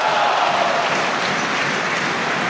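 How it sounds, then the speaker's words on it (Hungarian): Home crowd in Körmend applauding at a basketball game, a dense, steady roar of clapping and cheering that stays loud throughout with no break. "Így örül a körmendi közönség."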